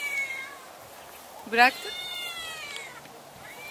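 A cat gives one short, rising meow, close and clear, against quiet room noise. A person speaks briefly just before it.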